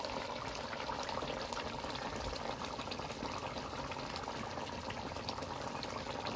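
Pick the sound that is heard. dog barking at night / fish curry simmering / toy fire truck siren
fish curry simmering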